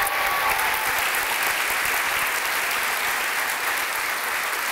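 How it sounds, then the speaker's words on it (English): An audience at a university midyear completion ceremony applauds student speakers, with steady, dense clapping that fills the whole stretch at a constant level. "give our student speakers another round of applause"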